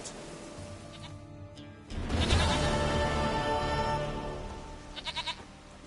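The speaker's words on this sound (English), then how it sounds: "Goat of mine, dearest, sweetest goat." A goat in The Witcher 3 bleats in a long, loud, wavering cry up close, followed by a short series of quick stuttering bleats, with no talking.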